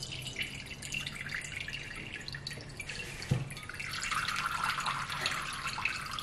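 Water is poured into an Alocasia pot and drains through a chunky aroid potting mix, giving a close, continuous trickling and dripping sound with one soft knock in the middle.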